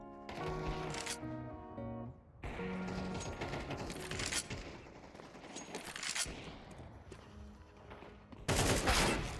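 Gunfire crackles in a first-person shooter video game as an enemy shoots while running, with rapid bursts and volleys mixed among game music tones and effects.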